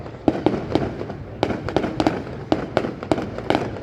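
Fireworks bursting over Long Khanh city in 2023, a rapid, irregular string of sharp cracks and booms, fairly loud and close, with dense explosions overlapping.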